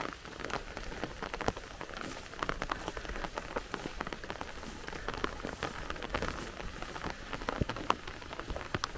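Rain falls steadily on a forest at the meadow's edge during September mushroom hunting, a dense close patter of drops on leaves and surfaces with scattered louder hits and no talking.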